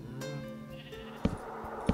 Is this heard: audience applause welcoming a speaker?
no